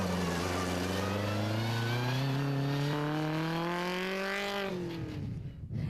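An early spec off-road race car built by Bat Racing leaves the start line, its engine revving hard and climbing steadily in pitch through a gear before easing off, loud and close.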